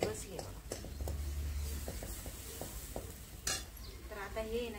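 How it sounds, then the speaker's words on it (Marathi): Spices temper in hot oil in a pan on a wood-fired stove for a drumstick curry, a soft sizzle mixed with scraping stirs and light utensil clicks beneath a quiet speaking voice. "छान अशी फोडणी बसली बघा."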